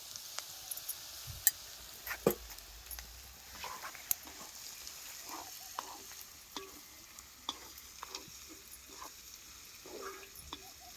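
Peanuts sauté in a pan with a spoonful of turmeric. A faint, quiet sizzle sits under scattered sharp ladle clicks and scrapes spaced across the stretch, with no talking.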